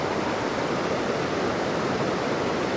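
Rushing white water in a deep Catskill Mountains trout stream roars steadily and loudly, a constant broadband wash with no pauses, heard up close without any voices.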